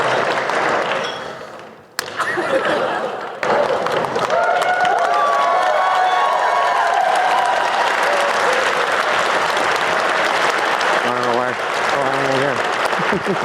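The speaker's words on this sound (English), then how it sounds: "the massive standing ovation he received when he walked up on stage" Roaring standing ovation as Pierre Poilievre walks on stage at a Conservative event, loud sustained applause and cheering from a large crowd, with a dip near two seconds, then steady clapping and shouts, a voice calling briefly near the end.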